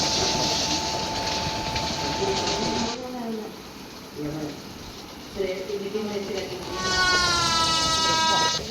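The Tamil Nadu Superfast Express from New Delhi to Chennai Central runs at speed with a steady, loud rolling rumble. Voices are briefly heard over it, and a sustained horn blares near the end.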